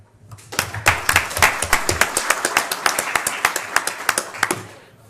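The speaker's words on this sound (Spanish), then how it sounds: "a pediros un fuerte aplauso para él" An audience claps steadily, a dense burst of applause with sharp individual claps standing out, lasting several seconds before fading.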